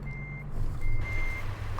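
Reversing beeps from a Scot A2HD truck in American Truck Simulator, a steady high-pitched tone pulsing over the low diesel engine idle, loud and close with no talking.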